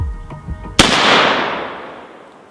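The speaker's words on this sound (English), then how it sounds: "AK-50. First test fire." A single sharp, loud gunshot from an AK-50 rifle on its first test fire, with a long echoing decay that rolls away afterward.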